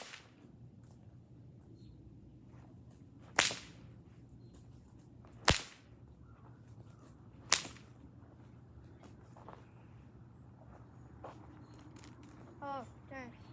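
A whip is swung hard and cracked three times, each a sharp, loud snap separated by a couple of seconds, over a faint outdoor background with quiet talk.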